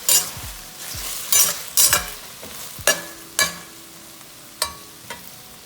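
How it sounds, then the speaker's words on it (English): Beef and bamboo shoots sizzle and crackle in a hot pot while a utensil scrapes and clanks against the pot in irregular strokes, close by. "Alright, keep stir frying."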